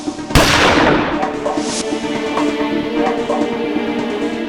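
A single loud gunshot sound effect from a Hindi courtroom drama, a sharp, close crack with a decaying echo, followed by a lower, steady background murmur.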